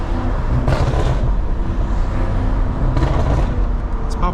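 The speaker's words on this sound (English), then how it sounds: "up shift, downshift, downshift, downshift. Let some pops go off." A BMW F90 M5 Competition drones loudly from inside the cabin as it downshifts, with a couple of rough bursts of exhaust pops and a few sharp crackles near the end.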